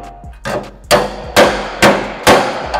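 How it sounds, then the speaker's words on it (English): A hammer strikes clamped sheet metal during dent smoothing with a hammer and dolly: five sharp, close metallic blows at a roughly even pace, each ringing briefly before the next. "I'm using this part of the hammer, and I'm hitting it right in the corner while it's clamped"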